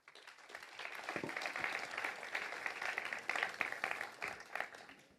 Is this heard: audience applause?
yes